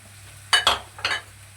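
Mashed potatoes are stirred into frying ginger, green chillies and onion in a pan, giving three quick close scraping, sizzling strokes over a quiet hum, with no talking.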